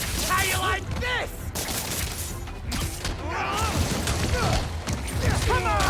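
Rapid bursts of gunfire sound in the Spider-Man: Miles Morales video game, mixed with impacts, crashes and whooshing action effects. Excited voices talk and shout over the noise.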